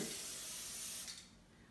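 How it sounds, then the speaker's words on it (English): A steady aerosol hiss of cooking spray onto a baking pan for about a second, then it cuts off, leaving quiet room tone. "I'm going to spray my baking pan"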